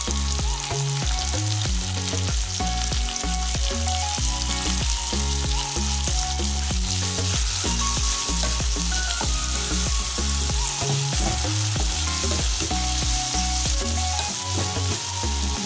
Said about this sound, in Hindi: टमाटर डालने के बाद आप फिर से एक बार इसको अच्छी तरह से मिलाइए आपस में इस तरह से।